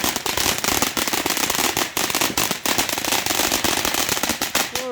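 Bonfire Night fireworks go off nearby, a dense, loud run of crackling firecracker bursts and sharp bangs with no pause. No talking is heard.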